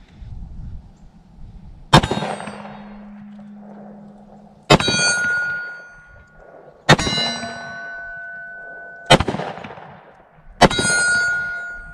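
A Smith & Wesson M&P 10mm pistol fires five spaced shots at an outdoor range, each sharp report followed by a ringing metallic clang from a struck steel plate that lingers as it decays, with no talk.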